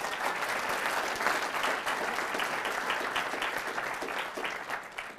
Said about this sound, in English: let's have a round of applause for YAF